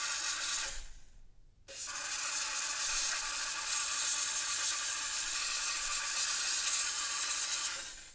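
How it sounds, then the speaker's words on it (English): A steamer blasts wax off a bonded RPE dental appliance with a loud, close, continuous hiss that cuts out briefly near the start, then resumes and holds steady before stopping. "let me go steam the wax"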